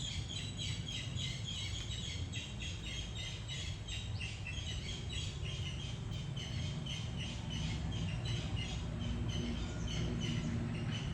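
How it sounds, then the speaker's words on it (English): Birdsong from several birds chirps steadily through an outdoor morning scene with rain falling, repeated high calls layered over a constant broadband wash of rainfall at moderate level, no voices. "The birds I'm hearing chirping, the rain falling, an owl."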